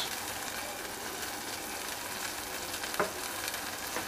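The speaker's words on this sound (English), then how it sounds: "Just need to simmer that for a couple of minutes." Mustard sauce with lemon juice simmers and sizzles steadily in a pan, a continuous close bubbling hiss with one brief clink near the end, no talking.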